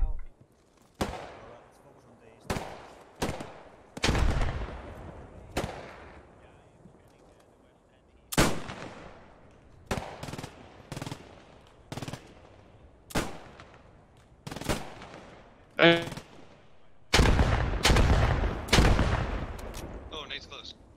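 Mortar shells bursting in an outdoor shooter match, with a string of loud, sharp explosive cracks spaced a few seconds apart, each followed by a rumbling decay. A few come in quick clusters, and players talk between the blasts.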